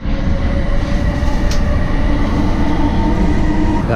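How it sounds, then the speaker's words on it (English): A train running steadily, a continuous loud rumble of wheels and carriage noise with a brief higher squeak near the middle, heard from on board. "Alright, last train."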